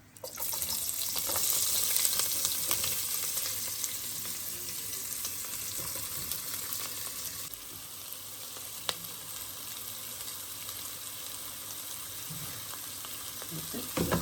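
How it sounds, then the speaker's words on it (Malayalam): Onion frying in oil with cardamom, cloves, cinnamon and a bay leaf gives a steady sizzle with stirring scrapes, louder at first and then settling to a constant hiss, with no talking. "ഇതെല്ലാം കൂടെ ഇതിനകത്തോട്ട് സവാള ഇടാൻ പോവാം"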